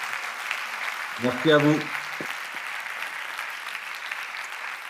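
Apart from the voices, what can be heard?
audience applause after a presentation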